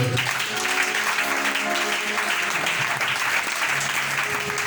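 A church congregation applauds in sustained, dense clapping that fills the space evenly from start to end, loud and steady with no talk over it.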